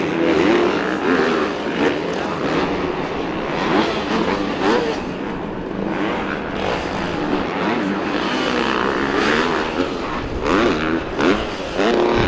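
Several supercross motorcycles at a Foxborough race land a dry triple jump and brake into a corner, engines buzzing and revving in overlapping loud waves with crowd and arena noise underneath.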